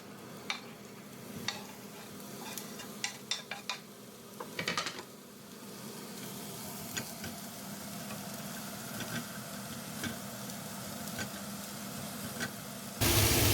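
Ground turkey crackles faintly in a hot pan while a utensil breaks it apart, with scattered scraping clicks over a steady low sizzle and no talk.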